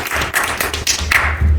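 Applause from an audience at a Korean political party meeting with Christian leaders, a short continuous burst of clapping that fills the room with no talking.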